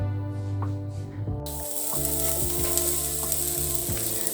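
Sausages sizzle steadily on a small electric grill, a constant close hiss with occasional clicks and a low electrical hum underneath.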